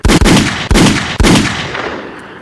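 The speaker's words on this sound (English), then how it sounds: "Let me get some gunshots going for the Kind Young Lady." Three loud, sharp gunshot sound effects fire in quick succession, each a hard broadband crack with a ringing decay, the last tail fading out alone.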